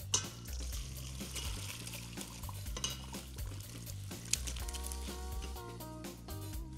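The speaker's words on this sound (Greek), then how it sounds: "τώρα, σουρώνουμε όλο μας το μείγμα" Chicken broth with vegetables being strained in a kitchen, with close clinks of a pot, bowl and utensils, scraping and light liquid sounds in a busy irregular patter.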